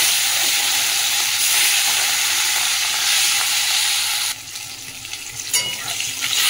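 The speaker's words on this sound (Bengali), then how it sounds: "তেলটা গরম হয়ে গেছে, মাছটা তুলে দিচ্ছি।" Fish frying in hot oil in a wok gives a steady, broad sizzle that stays loud and close, easing slightly in the last couple of seconds, with occasional light clatter and no voices.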